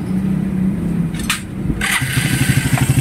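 Motorcycle engine running after an engine refresh with new oil, at 28,000 km on the odometer, a steady close idle thumping with a couple of brief blips partway through, and no talking.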